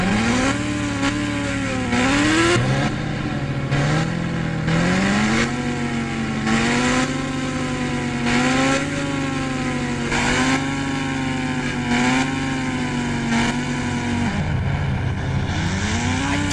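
Car engine in the mobile driving game Indian Bike and Car revs repeatedly, pitch climbing and dropping in waves as gears shift, loud and continuous with no talk over it.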